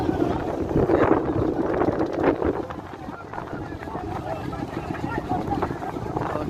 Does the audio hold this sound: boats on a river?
yes